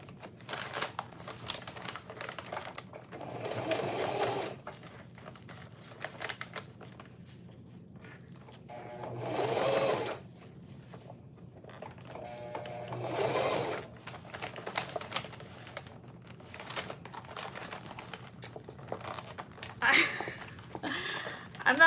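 A sewing machine stitches a gusset on a clear plastic tote in several short bursts separated by pauses, with crinkling plastic and quiet handling between runs.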